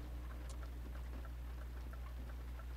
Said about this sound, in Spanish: Hasta que llueve.